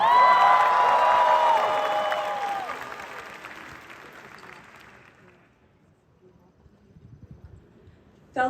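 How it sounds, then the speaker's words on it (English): A graduation crowd at a university commencement ceremony cheers and claps loudly, whoops and shouts over steady applause that fades out over several seconds into near quiet before a voice begins speaking. "I'm going to need all of you to cheer a little louder"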